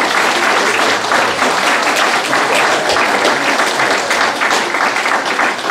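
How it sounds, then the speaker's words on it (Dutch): Loud, dense audience applause at a Dutch liberation festival gathering in Wellerlooi, continuous clapping from a crowded hall sustained evenly throughout with no speech over it. "Zo mag ik wel even klappen."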